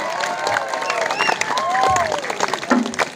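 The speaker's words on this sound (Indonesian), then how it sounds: "tepuk tangan dong" Audience at a Balinese Bondres comedy performance claps and cheers, a lively wash of applause mixed with shouts and voices under a melodic background tune.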